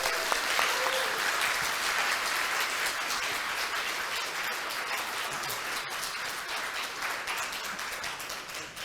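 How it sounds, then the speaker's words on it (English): Loud, continuous applause from a conference audience at a Kubernetes platform talk, a thick wash of clapping that holds steady throughout and eases off a little near the close, with a brief whoop early on. "I think we can applaud louder."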